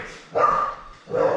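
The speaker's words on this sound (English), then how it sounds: "Sorry about the dogs." Dogs bark somewhere nearby while a fishing rig is being tied, giving two short loud bursts of barking separated by a brief pause.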